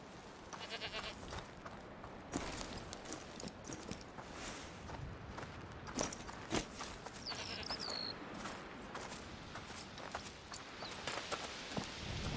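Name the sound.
horses walking, hooves clip-clopping, from video game A Plague Tale: Requiem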